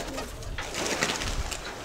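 Pigeons coo steadily in a loft, soft repeated throaty calls close by with a low murmur of background noise.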